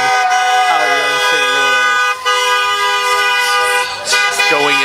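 Car horns honk repeatedly and loudly in a St. Louis street celebration after a Blues Stanley Cup win, with long overlapping blasts and toots layered over crowd noise and voices.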